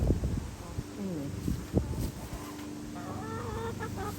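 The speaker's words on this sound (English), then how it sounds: "Why is that chicken acting so frantic back there?" A chicken clucks and squawks frantically in agitated bursts, fairly close, with another voice briefly audible in the background.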